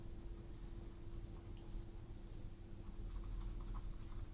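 Chalk and charcoal stroking on paper while drawing polar bear fur hairs, a quiet, close, continuous scratchy rasp of short repeated strokes with a faint steady hum underneath.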